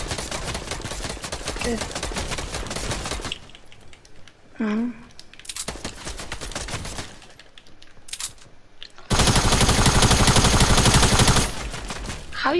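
Rapid bursts of gunfire from the video game Fortnite come in several loud volleys separated by short pauses, with a player talking between them.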